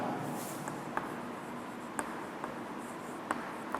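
Chalk or marker writing on a board during a physics lecture on current electricity, faint scratchy strokes with a few sharp taps, quiet against low room hum and no talk.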